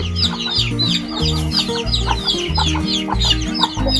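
A flock of chickens clucks steadily and close by, overlapping calls forming a busy, continuous farmyard chatter, with a faint crow and a low background hum.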